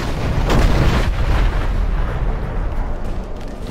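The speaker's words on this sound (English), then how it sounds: "those are cannons" Cannons fire in the Dungeon Siege III video game, a heavy, rumbling boom that rolls on and slowly decays, loud and dense with low-end energy.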